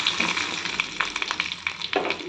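Mustard seeds, cumin, curry leaves and chillies fry in hot oil for jhunaka, a close continuous crackle and sizzle with scattered sharp pops throughout.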